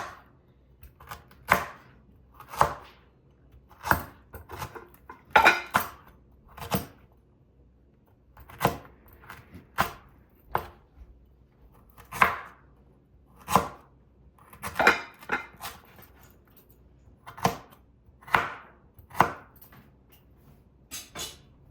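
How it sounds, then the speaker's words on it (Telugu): Ginger being cut into thin pieces with a knife on a board, sharp separate chops spaced about a second apart, close and crisp over near silence, with no talking. "అల్లం బాగా కొంచెం ఎక్కువ తీసుకొని సన్న సన్న ముక్కలు కోసి పెట్టుకోవాలండి"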